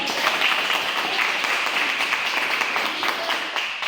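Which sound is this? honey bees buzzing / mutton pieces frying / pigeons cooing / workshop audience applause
workshop audience applause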